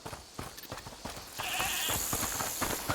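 A goat in the video game A Plague Tale: Requiem bleats in a long wavering cry, heard after a run of scattered clip-clop footsteps and knocks, fairly close and clear.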